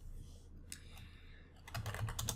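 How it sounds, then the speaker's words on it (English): A few computer keyboard keys are pressed at a command prompt, including the up arrow. The clicks come as a short scattered cluster, close and fairly quiet, with a faint voice in the background. "I'm going to use the up arrow key without the -a."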